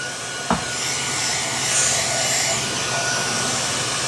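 A Kenmore handheld cordless vacuum cleaner runs with a constant close-up whir as it clears debris near a baseboard, with one short knock near the start.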